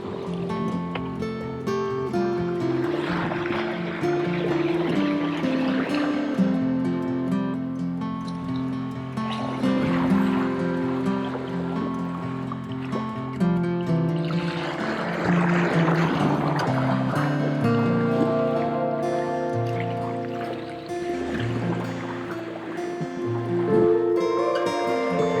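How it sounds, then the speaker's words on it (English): Water rushes and splashes steadily against the bow of a sailboat running downwind and surfing down the waves, with a loud, continuous wash that swells and eases with each wave and no voices. "Going pretty much downwind, riding the waves, surfing the waves down"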